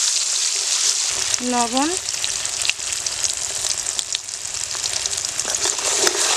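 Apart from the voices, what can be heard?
ground nigella, ginger, cumin and chili paste frying in oil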